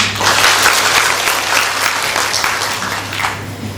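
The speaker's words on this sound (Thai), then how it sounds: "ขอให้ทุกคนปรบมือให้กับวิทยากรของอบจศรีสะเกดด้วยค่ะ" A seated audience claps for the lecturer at a Sisaket provincial administration training workshop on year-end account closing. The applause is loud, dense and steady for nearly four seconds, then thins slightly at the end.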